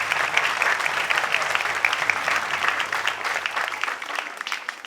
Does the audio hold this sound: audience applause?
yes